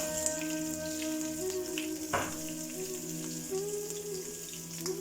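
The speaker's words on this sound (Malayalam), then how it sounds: "ഈ കടുക് പൊട്ടി അതിലേക്ക് നമുക്ക് ഈ ഉണക്കമുളക് ഇട്ട് കൊടുക്കാം." Soft, steady sizzle of dried chillies frying in oil with popped mustard seeds, with a sharp clatter midway and faint tonal hum in the background.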